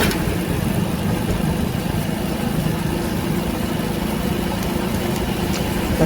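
A motorcycle engine hums steadily while the bike rolls along a road at an unhurried pace, a constant close drone that never revs up, with no talking.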